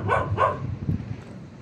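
A dog on a grave in a cemetery at night gives two quick barks at moderate distance, followed by faint low rustling.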